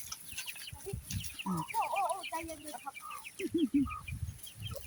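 Chickens clucking close by, a busy mix of short clucks and warbling calls from several birds, with faint rustling underneath.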